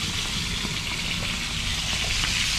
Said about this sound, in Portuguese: E aqui, galera, ó, já tô fritando as traíras.